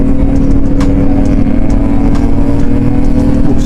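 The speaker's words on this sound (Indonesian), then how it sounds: "Suaranya mobil itu bukan motor" A car engine runs loud and close, with a steady rumbling drone and no pauses, close to motorcycle-like. No one speaks.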